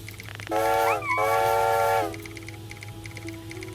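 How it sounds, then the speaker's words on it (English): A video game train sounds a loud steam whistle on arrival, one sustained chime-like blast of about a second and a half with a brief pitch wobble, followed by quieter rhythmic rail clatter. "Whistle for arrival."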